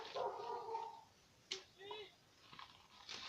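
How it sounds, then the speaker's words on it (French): A female dog barks and whimpers indoors in short, faint yips and bow-wows over a quiet background, with a voice talking nearby. "parce qu'en fait, c'est ma chienne. Qui aboie parce que ma mère va chez le veto avec l'autre chienne"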